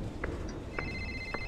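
Smartphone ringing inside a horror video game, heard as a few short, separated electronic tones, then a steady high electronic ring that holds to the end, moderately faint over a low background hum.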